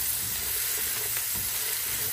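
Green beans sizzle in a hot pan while Filipino Pinakbet cooks, a steady broadband frying hiss with small crackles running continuously, close and fairly loud, with no voices.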